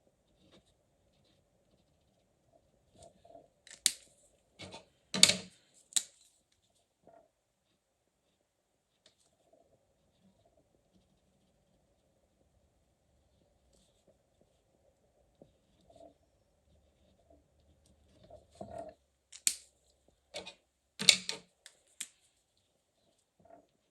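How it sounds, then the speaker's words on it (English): Fine-line Uni Ball PIN pen strokes on coarse A4 paper, heard as two separate clusters of short scratchy scrapes, up close and moderately loud, with quiet gaps between them and no talk. "when you are drawing with these pens you do feel a little bit of resistance on this paper"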